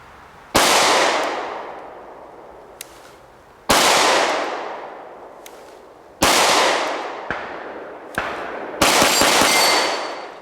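Loud gunshots ring out at rubber dummy targets: four single cracks spaced a few seconds apart, each trailing a long echoing decay, then a final burst of rapid shots near the end, with no talking.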